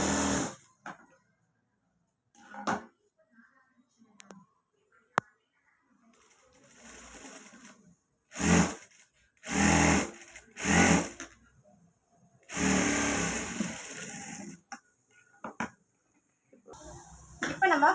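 A sewing machine stitches a long basting seam on a blouse piece in several short, loud bursts separated by pauses, with a few clicks and handling noises in between.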